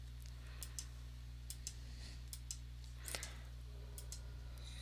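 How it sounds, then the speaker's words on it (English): Sparse computer mouse clicks tick in quick, faint bursts over a steady low electrical hum while someone plays a card game online. "Sorry if all these mouse clicks are annoying."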